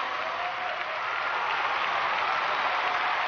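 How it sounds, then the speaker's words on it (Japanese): A big arena crowd at a figure skating competition applauds and cheers after a short program, a dense, continuous wash of clapping that holds steady and loud throughout. "アメリカ、レオデラ・イグレシア、大歓声の中、納得のショートの演技です。"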